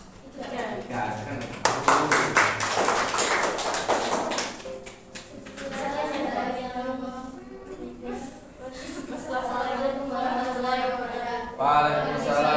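Classroom applause for a student group is a short burst of clapping near the start, then gives way to someone talking.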